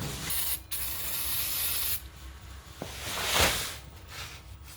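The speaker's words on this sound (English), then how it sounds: "we're just gonna give this a hose down with a bit of brake cleaner" Brake cleaner is sprayed from an aerosol can onto the oil drain area of a Toyota Land Cruiser 100 in several close, loud hissing bursts of varying length, with short pauses between them.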